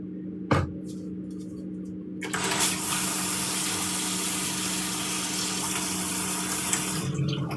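A tap runs in a kitchen sink in Japan: a brief clunk, then a steady loud rush of water close by that continues to the end.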